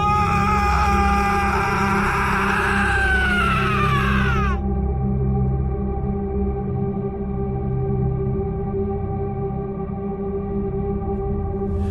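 A long, loud, wavering scream falls in pitch over a low droning ambience and cuts off abruptly after about four seconds, leaving the drone alone; it is a horror-story scream coming from a jungle at night.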